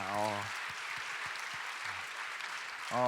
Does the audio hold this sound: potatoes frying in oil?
no